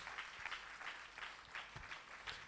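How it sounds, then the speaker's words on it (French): A church congregation claps for the Lord Jesus during a sermon, a faint, rhythmic beat of group clapping with regular bursts, heard at a distance. "Applaudissons le Seigneur Jésus."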